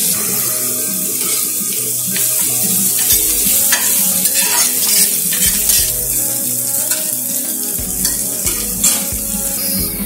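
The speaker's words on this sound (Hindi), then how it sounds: "चलिए इसको फ्राई कर लेते हैं अनियन को, जब तक ये सुनहरा ना हो जाए।" Chopped medium-size onion frying in a pan for an aloo sabzi, a loud continuous sizzle with repeated scraping stirs of a spoon against the pan, close and without talking.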